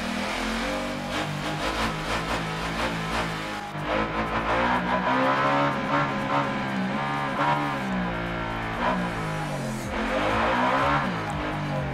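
A Ducati Diavel motorcycle engine under way, loud and close, rising and falling as the rider revs and shifts, with a continuous throaty drone and wind.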